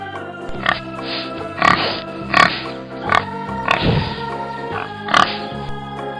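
A farm pig makes a string of short, snorting oinks and grunts at uneven intervals, close and fairly loud, with steady background music underneath.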